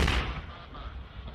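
A fireworks show in eastern Tennessee, touchdown fireworks: one deep, booming explosion hits at the start and then fades into a long rumbling decay, loud and without any voices.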